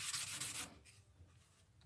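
An agate stone is rubbed on sandpaper, giving a close, gritty sanding scrape in quick repeated strokes that fades to quieter rubbing.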